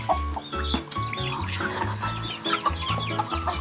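Native chickens on a small farm cluck and chatter steadily, several birds close by with overlapping calls, and no voices.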